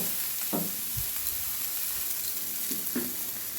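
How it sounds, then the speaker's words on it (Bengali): Ginger and tomato frying in a pan for a fish curry, a steady soft sizzle with a few brief stirring scrapes, close by and fairly quiet, no voices. "আদাটা দিয়ে দিলাম, টমেটো দিয়ে দিলাম, ভালোভাবে ভেজে নেব যতক্ষণ কাঁচা গন্ধ না যাচ্ছে"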